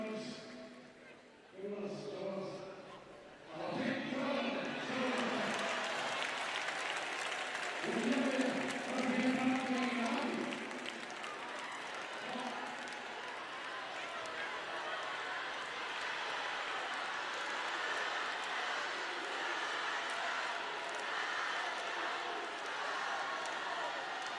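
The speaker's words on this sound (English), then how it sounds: "Chants from the crowds." Crowds at a FC Barcelona women's Champions League celebration parade, with rhythmic chant bursts early on giving way to a sustained, broad roar of cheering from a large gathering at a distance.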